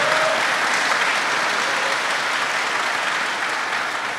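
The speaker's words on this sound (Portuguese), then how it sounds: "Dá mais uma salva de palmas para Jesus." Sustained applause from a church congregation fills the space at an even, steady level, dense and unbroken for the full span with no voices standing out.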